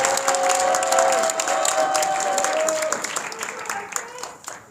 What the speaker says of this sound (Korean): 우리 김문수 대표님한테 큰 박수 한번 보내주십니다